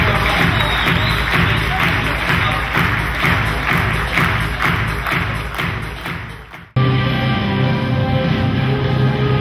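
Sustained, loud crowd applause fills a ceremony hall for the JLM 2011–2012 final, a dense wash of clapping that cuts off briefly near the end and then resumes with a tonal hum underneath.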